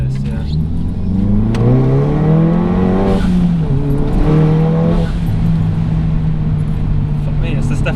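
A 358 BHP Audi S1 engine accelerates hard from inside the car, a loud rising rev that dips and pulls again across the whole stretch, with a voice speaking over it.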